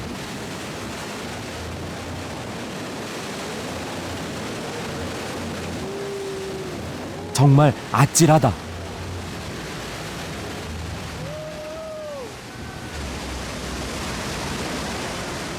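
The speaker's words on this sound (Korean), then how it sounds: "상상할 수 없는 엄청난 양의 물이 굉음을 내며 떨어진다." Iguazu Falls in Argentina thunders as an enormous volume of water plunges, heard from a boat approaching through the spray: a constant, dense roar fills the whole stretch, with a brief spoken exclamation in the middle.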